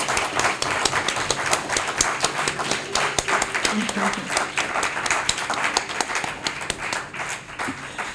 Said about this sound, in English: I think we should really give them a powerful, powerful compliment through our applause